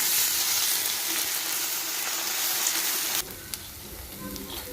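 Ginger garlic paste frying in a pan for a spicy Indian dry chicken masala, a steady hiss of sizzling that drops abruptly to a quieter, softer fry partway through, with no one talking.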